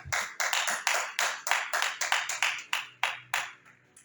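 Scattered handclaps from a church congregation, loud individual claps at an uneven rhythm of roughly three per second, fading toward the end, with no talking over them.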